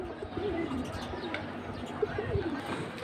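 Giribaz high-flying pigeons coo inside a cage, soft, low, rolling calls close by, with a few faint chirps and murmurs of background noise.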